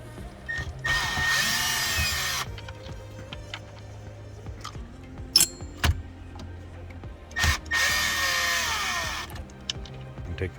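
A power drill whirs in two bursts of a couple of seconds each, removing Phillips screws from a Toyota Tundra dash, with small clicks and handling knocks between the bursts, close up and with no talk.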